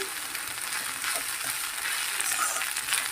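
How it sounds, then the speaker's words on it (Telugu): Carrot and cabbage stir-fried for veg noodles over a high flame, a steady hissing sizzle with occasional clinks and scrapes of the spatula against the pan, close and continuous with no talking. "హై ఫ్లేమ్లో పెట్టేసి ఇలా ఫ్రై చేసుకోవాలి"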